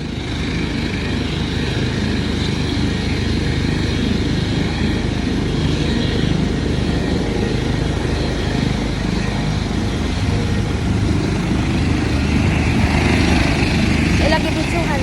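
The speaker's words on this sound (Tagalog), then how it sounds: "Na helicopter dere." A helicopter flies overhead with a loud, steady droning rotor and engine noise that persists throughout, while people talk beneath it.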